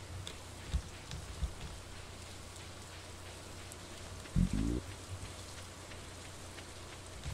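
Rain falls steadily in the Stardew Valley video game in summer, a soft, even patter with a few light ticks and a short thudding burst partway through.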